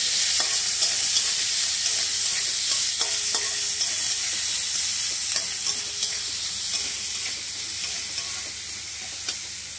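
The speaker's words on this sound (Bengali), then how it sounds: "পেঁয়াজটা ভালো করে ভেজে নেব।" Chopped onions fry in a pan with a continuous bright sizzle, broken by scraping stirs and occasional light taps of the spatula, with no voices.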